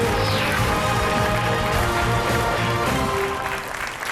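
Studio audience applause on the Portuguese TV quiz show Joker, a steady dense wash of clapping with music layered underneath, loud and continuous for the whole stretch.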